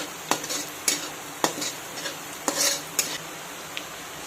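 Curry leaves tossed into onions frying in a pan, stirred with a spoon that scrapes and clinks against the metal several times over a soft sizzle.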